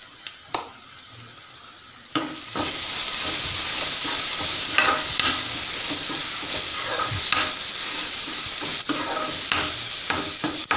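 Spices sizzling in hot ghee for a mushroom curry, a quiet start with a few scrapes before a steady, loud frying hiss takes over, broken by regular spoon taps and stirring clicks against the pan.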